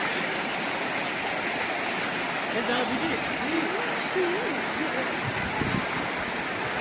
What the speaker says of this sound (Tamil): ஃபுல்லாக ஐஸ் ஸ்னோ கரைஞ்சி ஒரு தண்ணி, நேச்சுரலான ஒரு தண்ணி.